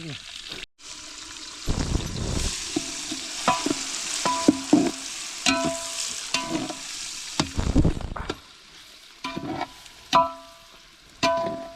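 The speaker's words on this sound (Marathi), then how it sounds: "आता लसूण भाजून घेणार" Garlic fries in a pan for a home-cooked jackfruit vegetable dish, with stirring scrapes and a steady sizzle over about twelve seconds. Voices and clatter sound nearby throughout.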